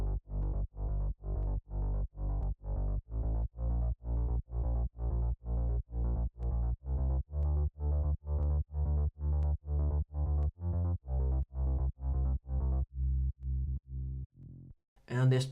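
Layered electronic bass from a remake of an electronic dance track, with a distorted layer, pumps in loud, evenly spaced pulses with no voices, briefly thinning near the end before a final hit.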